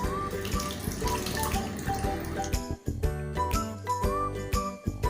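Soaked tamarind water is poured into a pot of beetroot sambar, a steady liquid stream with light splashing and clinking, close and fairly loud, with no talking.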